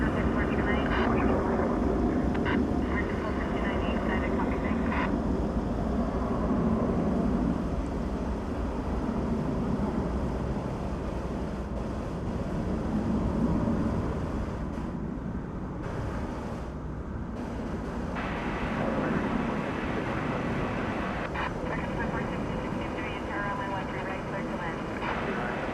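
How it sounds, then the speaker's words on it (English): American Airlines Airbus A321 jet departing DFW Airport at night, a steady distant engine roar that stays constant throughout, with someone talking over it for much of the time. "Here is American Flight 1689. It's an Airbus A321. It's going to Fresno, California."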